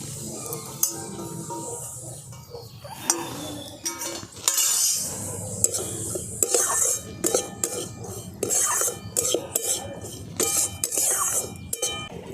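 Semolina and tutti frutti stirred and fried in a pan for sweet kachori, with a spatula clinking and scraping against the metal in quick repeated strokes, close and fairly loud over a low frying hiss.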